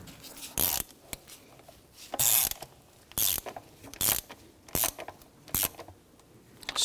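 A ratchet snugs down the knock sensor bolts on a 2017-2020 Hyundai Elantra 2.0L four-cylinder, sounding as about eight short, sharp bursts of close clicking separated by brief pauses.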